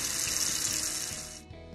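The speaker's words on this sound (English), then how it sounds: "just add some water to the pot, about like 3/4 full or so" Tap water pours into a soup pot in a steady rushing stream, close and fairly quiet, then tapers off near the end of the short burst.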